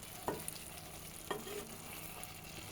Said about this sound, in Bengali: 5 মিনিট কষানোর পর একটু নাড়াচাড়া করে নিচ্ছি।